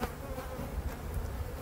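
Honey bee colony buzzing steadily, a dense continuous hum from a hive prepared for winter with capped honey stores, close and even throughout with no voices.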